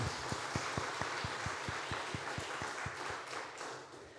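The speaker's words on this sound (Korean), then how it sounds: "목사님께 감사의 박수 한번 드립시다." Fairly quiet applause in a church, with a steady, even beat, hands clapping roughly in unison at a brisk regular rhythm before gradually loosening.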